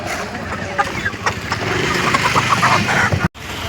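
Hens and roosters cluck and call amid the busy hubbub of a weekly Sunday hen market in Pileru, with crowd noise and a constant din throughout.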